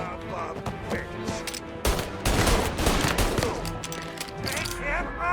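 Rapid bursts of gunfire from a shootout in the video game Mafia: Definitive Edition, loud and dense, building into a heavy volley midway with steady rattling shots throughout and a voice briefly heard beneath.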